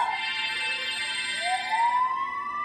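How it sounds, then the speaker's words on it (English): A wailing police siren in a video game, its pitch dipping and then rising steadily, moderately loud and continuous without talk. "That's the sound of the police."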